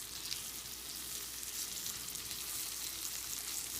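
Venison searing in a hot pan in flour, butter and oil, a steady close sizzle and crackle of frying running unbroken and fairly loud throughout, with no talk over it.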